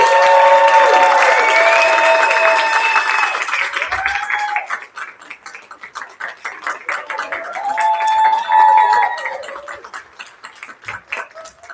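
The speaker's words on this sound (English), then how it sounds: "one big round of applause for everybody on stage" An audience at a senior storytelling showcase in a cultural center applauds the performers on stage, steady full clapping mixed with cheering voices and whoops that swells, dips and rises again.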